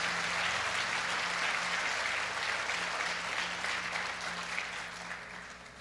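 A church congregation applauds during a Spanish-language service, a steady wash of clapping that holds for several seconds and tapers slightly toward the end, with a faint voice briefly audible underneath.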